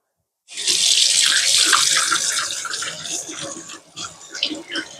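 Water from a kitchen tap gushes steadily while a cleaned yellow croaker is rinsed inside, a close, loud hissing splash that starts abruptly and shifts as the fish moves under the stream.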